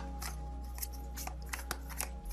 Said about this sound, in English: I need a few more cards